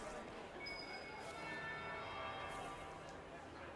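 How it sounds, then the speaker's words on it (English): A bell rings in Dragon Age Inquisition, a clear sustained chime with a couple of softer strikes fading over a steady low ambient hum, with no talk heard. "That would be the second bell."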